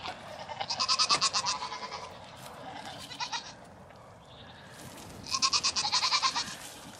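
Dairy show goats bleat in a goat herd, two separate bursts of quavering, wavering calls, fairly close, with quieter barn ambience between them.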